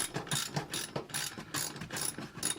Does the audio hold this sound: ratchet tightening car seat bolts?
yes